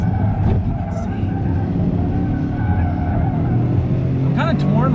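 Toyota GR Corolla braking hard on a track, with loud tire squeal and engine noise filling the whole stretch and rising squeal chirps near the end, while a voice talks over it.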